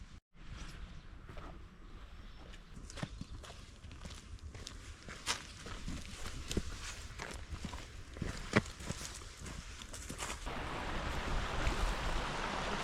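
Footsteps crunch steadily down a dry, steep-banked path beside the River Don, soft and fairly close, in an even walking rhythm over a faint outdoor breeze.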